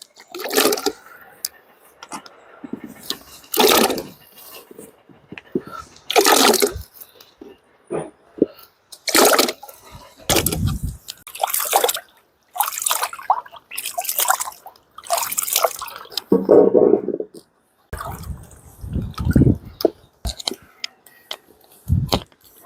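Jamun fruit being rinsed under running water, with close splashes and drips arriving in short irregular bursts separated by brief pauses.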